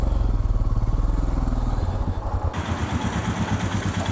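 A Royal Enfield Himalayan motorcycle idles close by, its single-cylinder engine thumping in a steady, even pulse with a slight clatter, heard alone.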